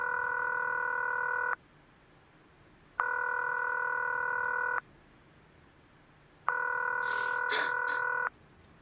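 Telephone ringback tone on a call to a Murray Hill number, three long steady ringing bursts separated by pauses, clear and alone, with a brief noisy rustle during the final ring.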